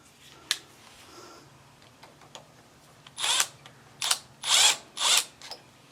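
Bursts of a power driver sinking T25 Torx screws into a Craftsman M430 mower carburetor, four or five short whirring runs close up after a quiet stretch with a faint click.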